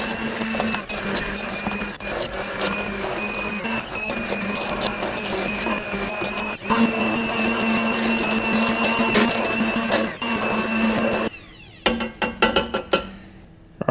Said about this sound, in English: And then we start blending.